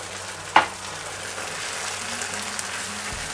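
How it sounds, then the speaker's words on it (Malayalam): Chilli chicken frying in a pan as a corn flour mix is poured in: a sharp clank at the start, then a steady, even sizzling hiss that continues close and uninterrupted, with no voices. "ആ ഒരു സമയത്ത് നമ്മൾ നേരത്തെ റെഡിയാക്കിയിട്ടുള്ള കോണിൻ്റെ ആ മിക്സ് ഒഴിച്ചു കൊടുക്കുക"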